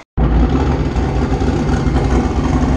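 A Ford Mustang V8 runs on a chassis dyno, its loud, steady engine note droning low and continuous for nearly three seconds after a brief silent start, with no voices over it.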